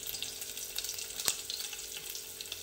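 Curry leaves, asafoetida and garlic sizzle steadily in hot oil for a Maharashtrian kadhi tempering, a close continuous crackle with one sharp pop midway.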